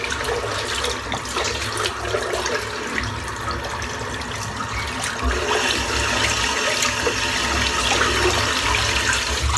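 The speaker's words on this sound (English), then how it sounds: "I'm just going to rinse the soap out." Water pours from a tap into a sink as soap is rinsed out of a glass-handled shaving brush, a loud continuous close rush with splashing that grows slightly fuller toward the end.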